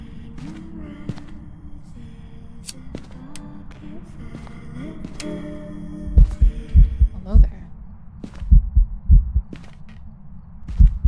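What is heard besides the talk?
heartbeat sound effect in the video game Phasmophobia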